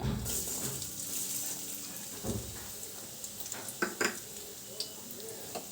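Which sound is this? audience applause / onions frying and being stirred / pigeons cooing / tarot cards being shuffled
onions frying and being stirred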